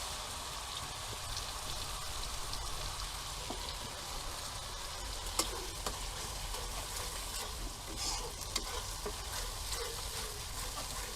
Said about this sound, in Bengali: এবার আমি এই কাজু বাদামের আর পোস্তর পেস্টটা দিয়ে দিলাম